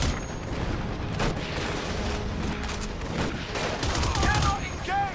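Sustained gunfire from a mid-2000s military shooter game, with dense overlapping rifle shots and machine-gun bursts crackling throughout, occasional heavier booms, and faint radio-style voices shouting under the battle noise.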